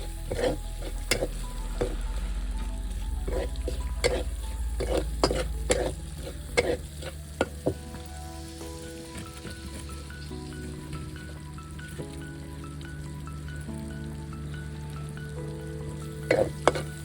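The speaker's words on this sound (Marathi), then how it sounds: "कांदा भाजून घ्यायचा" Onion frying in oil in a kadhai previously used for cooking mutton makes a steady crackling sizzle over a low hum, punctuated by frequent sharp spatters and utensil clicks, busier early on.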